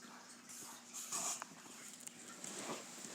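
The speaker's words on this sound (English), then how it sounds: "dogs barking to come in" Dogs make soft whimpering and yipping sounds to be let inside, faint and somewhat distant, in short bursts over a quiet background.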